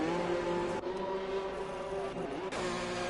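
An F1 2021 race car pulls out of the pits in the Australian round, its engine holding a steady high whine that climbs at the end, loud and alone.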